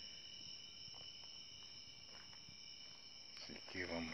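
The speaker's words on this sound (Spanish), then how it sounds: "Y ahí está un grillo. Un grillo." A cricket chirps in a steady, continuous high trill outdoors, fairly faint and close, running unbroken throughout with a few soft rustles near the end.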